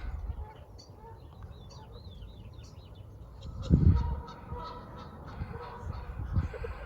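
Geese honk faintly in the distance, scattered calls over a low background rumble, with one brief louder thump partway through.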